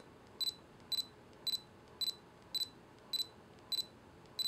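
Olympus OM-D E-M5 camera firing its shutter right after autofocus locks, eight sharp double-clicks at an even pace of about one every half second, close and alone in a quiet room.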